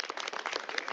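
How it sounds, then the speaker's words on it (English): Applause for a bill sponsor at a legislative bill signing, a brief burst of dense, steady clapping from a room of people. "Please give her a round of applause for her work on this legislation."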